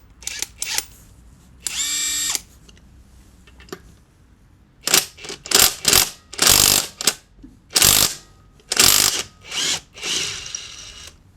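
A cordless impact wrench from AliExpress, set to its fastest torque program, drives nuts in a series of loud, close bursts: short whirring runs and hammering rattles of a second or so each, separated by brief pauses.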